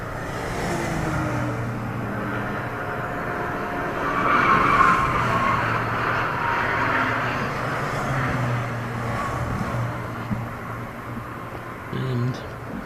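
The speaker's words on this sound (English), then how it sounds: "And across the line now goes 394." A race car in the Silverstone 24-hour endurance race rushes past with a swelling engine roar and tyre noise, heard under ongoing commentary.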